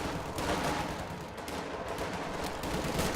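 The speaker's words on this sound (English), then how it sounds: "my lieutenant's taking shots at this grenadier squad" A lieutenant firing at a grenadier squad in Company of Heroes 2, a dense, continuous crackle of rifle and machine-gun fire with no voices, steady and fairly loud throughout.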